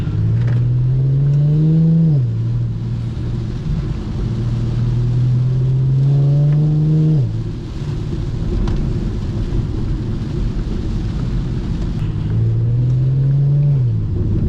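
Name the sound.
rear-wheel-drive car driving in rain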